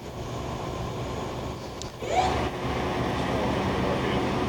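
A Clausing-Colchester 21 by 120 inch CNC/manual gap bed lathe spindle turns at 200 RPM in medium range, giving a steady broadband mechanical whir with a brief shift in tone partway through.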